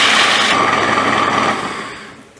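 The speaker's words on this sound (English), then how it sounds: "I'm just gonna turn my food processor on, probably literally for about 30 seconds to 1 minute, just to grind up the nuts" A food processor grinds nuts into fine powder for vegan parmesan, a loud close motor whir that runs briefly and then winds down and fades.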